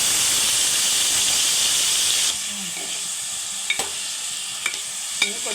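Chopped onion, tomato and green chili fry in about 100 grams of hot oil for mutton gongura curry, a loud steady sizzle that drops to a softer hiss midway, with occasional sharp clicks of a spoon stirring the pan.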